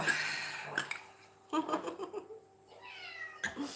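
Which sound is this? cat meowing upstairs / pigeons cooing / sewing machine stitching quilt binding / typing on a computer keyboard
cat meowing upstairs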